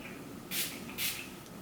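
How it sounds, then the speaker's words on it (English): Setting spray misted onto eyeshadow: two quick close hissing spritzes about half a second apart over a faint background. "let me just spray this and take it from there"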